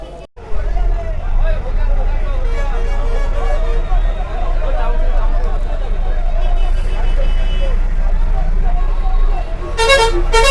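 A bus ride through busy roadside traffic, with a loud continuous engine rumble and crowd chatter, and a sharp horn honk near the end.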